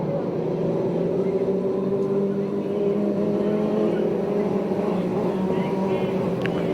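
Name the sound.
stock car engine being refired at race track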